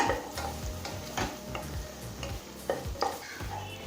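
Chili paste for Ambur chicken biryani being stirred and sautéed in a pan over a low flame, with repeated scraping strokes over a soft, steady sizzle, close and moderately loud, no voices.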